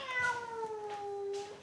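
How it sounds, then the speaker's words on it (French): A single cat gives a drawn-out, descending meow, fairly faint and close, with no other sounds around it. "Alors, elle miaule parce qu'elle n'est pas très contente de voir la copine"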